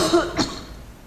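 Two quick, close coughs in succession from a speaker at a symposium keynote, short and throaty, followed by quiet.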